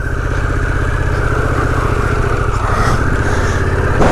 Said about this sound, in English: I am going to power up the other side